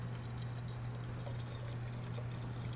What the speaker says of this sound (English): I'm pouring from a big kettle into a small red kettle